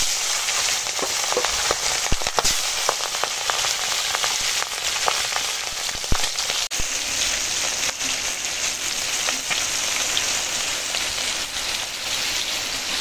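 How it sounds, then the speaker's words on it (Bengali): Rohu fish frying in hot oil in a wok, a steady, dense sizzle with crackling pops throughout, close and continuous with no talking. "আর এখানে আমার এখন কড়াতে মাছ, মাছ ভাজি।"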